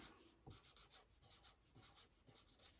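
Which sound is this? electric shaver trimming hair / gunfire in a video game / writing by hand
writing by hand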